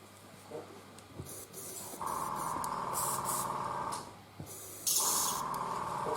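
An airbrush sprays Vallejo paint onto a 1:35 Takom Merkava Mk 2b model tank in close, soft hissing bursts of a few seconds each, separated by brief pauses.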